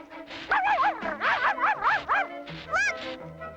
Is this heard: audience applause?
no